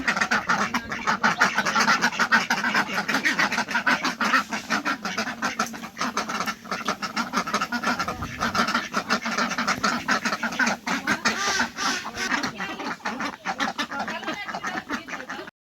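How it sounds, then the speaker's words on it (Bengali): A flock of domestic ducks let out of their coop in the morning quack constantly and loudly, a dense overlapping chorus of calls close by, with no clear talking. "সকাল সকাল হাঁসগুলোকে ছেড়ে দিলাম খোপ থেকে"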